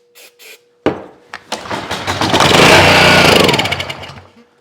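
A small engine sputters into life after two brief false starts, catching with an uneven, rattling run that swells loud, holds for a couple of seconds, then dies away.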